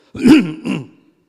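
A sudden throat-clearing cough from a preacher in mid-sermon, two close rough bursts, loud and near, with no talk over it.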